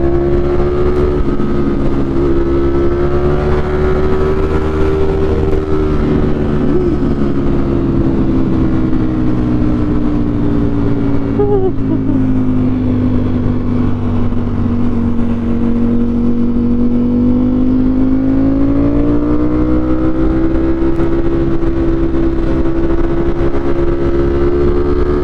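A Ducati Streetfighter V4 motorcycle cruises on a highway, its engine a continuous loud drone with slowly rising and falling pitch, heard close with heavy wind over it.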